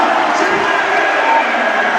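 A home basketball crowd cheers loudly and steadily in an arena after slam dunks, a dense roar with a commentator talking over it.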